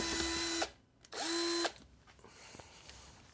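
A drill whirs steadily for a burst while mixing protein boilie bait ingredients, stops, then spins up again for a second run before winding down, close and moderately loud with faint clatter afterward.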